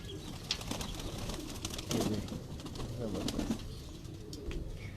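Sialkoti pearl-eyed pigeons coo in soft, low repeated murmurs at a rooftop loft, with faint chirps and a brief flutter around them, fairly close and steady throughout.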